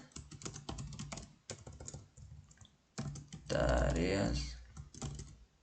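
Quick bursts of clicky keystrokes on a computer keyboard as a terminal command is typed, with pauses between runs and someone talking over parts of it.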